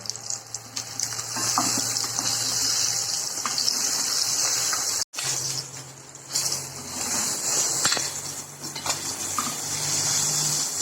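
Potatoes frying in hot oil for an egg curry, a steady loud sizzle running throughout with occasional stirring scrapes and a brief dropout midway, no voices.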